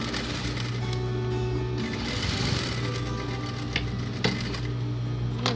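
A sewing machine stitches silky, slippery fabric for a cushion with a steady, fairly quiet mechanical hum and faint rhythmic ticking throughout.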